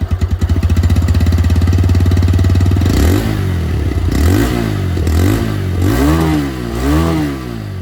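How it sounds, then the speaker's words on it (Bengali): A TVS Raider 125 ABS motorcycle idles with a rapid, even exhaust putter, then revs up and down repeatedly in loud, close rising and falling sweeps, with no voices. "এটা ছিল রেডা 125 ABS মডেল আওয়াজ।"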